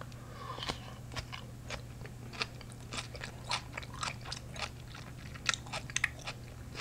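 Crunchy sliced cucumber from a Sichuan-style spicy sausage self-heating hot pot is bitten and chewed up close, giving a steady run of crisp crunches and wet chewing with no talking.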